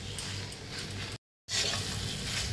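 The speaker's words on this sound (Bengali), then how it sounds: "এইটা গুগলিটাকে একদম আমি ভালো করে কষিয়ে কষিয়ে একদম মাংসের মতন এটাকে কষাতে হয়" Ghugni being stir-fried and browned in a pan, a steady close sizzle with scraping stirs that drops to a brief silence in the middle and then resumes at full strength.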